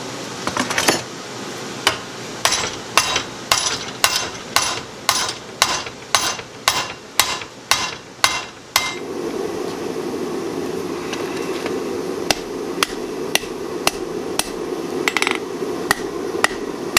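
Hammer blows forging a Damascus steel chef knife, thinning the spine into a distal taper: a steady run of sharp metallic strikes for about nine seconds, then a lower rumble with a few sparser, spaced hits.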